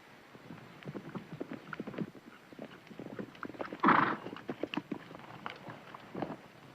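Horses clip-clop along at speed over several seconds, a quick, uneven run of hoofbeats at moderate distance, with one brief louder whinny or snort near the middle.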